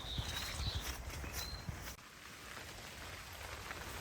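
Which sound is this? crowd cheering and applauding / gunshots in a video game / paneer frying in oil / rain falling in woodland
rain falling in woodland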